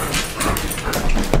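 A puppy whimpers and yips softly, close by, over a bit of background rustling.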